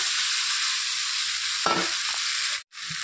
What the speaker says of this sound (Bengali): এখন আমি এর মধ্যে ফুলকপি আলুগুলো দিয়ে দেবো